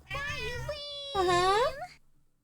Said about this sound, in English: Meowing his head off.